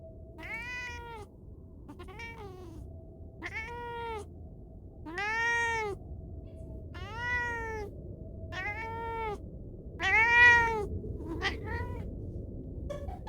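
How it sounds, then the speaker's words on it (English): A domestic cat meows over and over, about nine repeated calls spaced roughly a second apart, close and fairly loud over a low steady hum. "My cat won't shut up."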